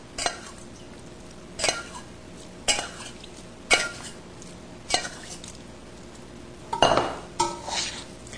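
Sushi rice mixed with rice vinegar is stirred in a bowl, producing about seven evenly spaced scraping knocks of the utensil against the bowl over a quiet, hushed background.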